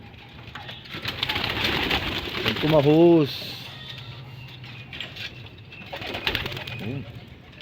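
Pigeons coo in a loft ahead of feeding time, a short clear burst of cooing rising above the ambient noise, with a second fainter coo afterward and someone speaking softly nearby.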